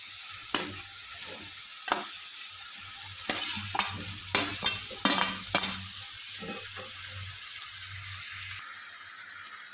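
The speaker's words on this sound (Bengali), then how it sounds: "এঁচড়টা এবার দিয়ে দিচ্ছি।" Chopped jackfruit for a masala curry frying in a pan, a steady sizzle with a spoon scraping and stirring in several sharp bursts, close and fairly loud, with no talking.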